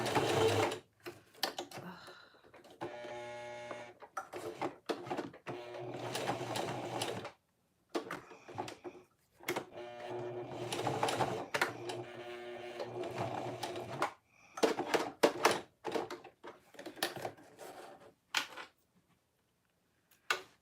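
A sewing machine stitches cotton woven fabric for a phone sling in several close bursts of rapid mechanical chatter, separated by short pauses, with faint talk in between.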